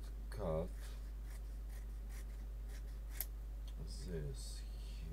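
Paper or craft material being snipped with scissors at an evening creative gathering: a few scattered close snips and light rubbing over quiet room tone, with brief voices at the start and near the end.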